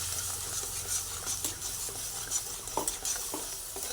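Peanut paste is worked into a simmering curry of pointed gourd, a spoon scraping and clinking against the pan in an uneven rhythm over a low bubbling sizzle and faint background hum.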